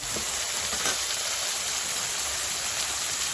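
Sautéing in a pan, a steady soft hiss of sizzling oil running evenly throughout at low level, with no voices.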